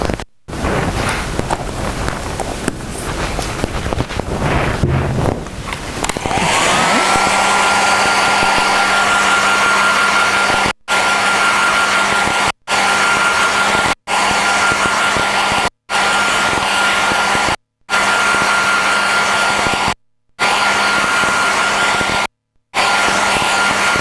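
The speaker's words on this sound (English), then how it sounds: "hair dryer." A hair dryer blows on rice paper close by, producing a loud, continuous whooshing roar with a steady motor hum, broken by several brief cut-outs where the sound drops away.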